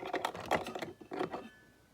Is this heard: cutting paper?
yes